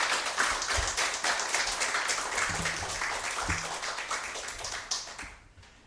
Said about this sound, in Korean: 우리 함께 환영의 박수를 하며 맞이하도록 하겠습니다